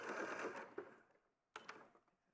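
A sewing machine stitching fabric runs in a fast whirring burst that tapers off, pauses, then starts again in a shorter run, close and fairly quiet.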